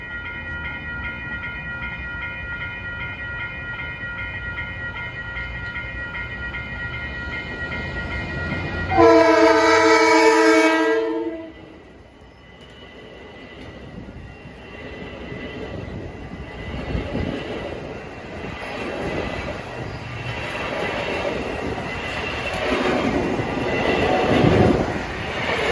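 A Metro-North holiday train passes on the Harlem line near Brewster, its horn blasting loud and sustained for about two seconds midway, with the rumble of rail cars rolling by before and after.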